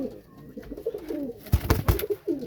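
Pigeons coo nearby in soft, low, throaty bursts, with a few quick wing flutters in between.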